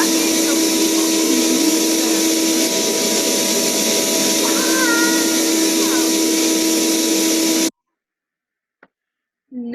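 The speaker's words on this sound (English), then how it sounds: "people use vacuum cleaners to move bees." A vacuum cleaner used to move bees gives a loud, steady, hissing motor drone with a whine, running continuously for most of the stretch before cutting off abruptly into silence.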